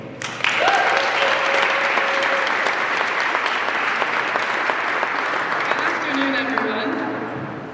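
Sustained audience applause welcoming Naomi onto the stage at a Turning Point event in Montana, a dense steady roar of clapping lasting several seconds before easing off at the end.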